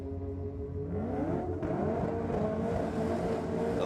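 A BMW launches in a drag race at a night drag and burnout event in Sydney, its engine roaring loud and steady while the pitch climbs through rising gear sweeps as it pulls away.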